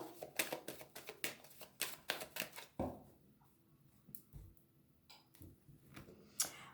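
A deck of tarot cards is cut and handled, with a rapid series of crisp flicking and tapping card sounds, close and fairly quiet, followed by a few scattered softer shuffles and taps.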